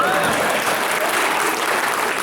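Audience clapping at an all-India poetry gathering (kavi sammelan) in Khariar, a continuous loud wash of many hands applauding together throughout.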